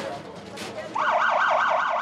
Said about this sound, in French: Scène inédite à Abidjan, des poubelles escortées par les sirènes de la police.